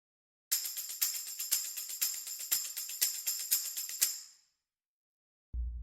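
A high, bright percussion layer taps out a fast, even pulse with sharp metallic-sounding strikes in quick succession, fairly quiet, ending abruptly before a brief low thump.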